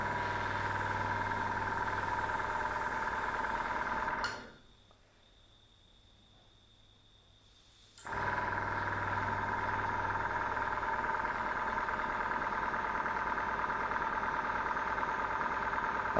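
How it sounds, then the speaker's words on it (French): Airbrush compressor running steadily at moderate level, a continuous hum that cuts out for a few seconds in the middle and then resumes, with no talking. "pour le bruit du compresseur"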